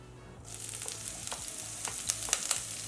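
Chana dal and urad dal frying in hot oil, a bright crackling sizzle that starts abruptly and keeps going, with sharper pops toward the end, close and alone.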